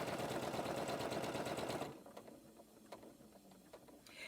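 A Brother 15000 sewing machine stitches patchwork squares, its rapid buzzing hum running close and steady for nearly two seconds before stopping, followed by quiet fabric rustling and small handling clicks.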